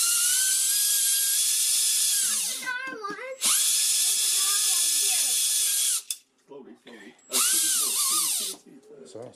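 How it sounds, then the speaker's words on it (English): A close, high-pitched power drill whines in three long bursts drilling out a plastic rivet on a Hot Wheels toy car, winding down between them, with brief voices in the pauses. "It's only plastic. We're going to drill that out,"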